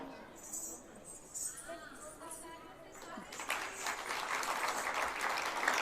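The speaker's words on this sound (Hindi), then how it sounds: "जोरदार तालियों से स्वागत करिए" Before a dance performance, a hall audience breaks into applause partway through: first a quiet voice over low room noise, then a swelling, steady crowd clapping that grows louder to the end.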